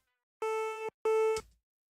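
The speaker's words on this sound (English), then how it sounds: "this is quite an FM type sound" Metallic FM-type synthesizer patch in Ableton Live, two short, bright, bell-like sustained tones in a row with a small gap between, fairly quiet and alone.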